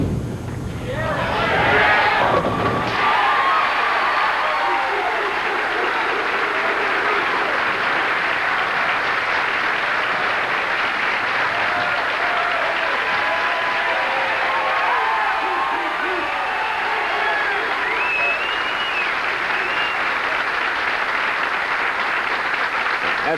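A crowd at a 1990 professional bowling tournament, the Fair Lanes Open, bursts into loud, sustained applause and cheering that keeps going at full strength from start to finish.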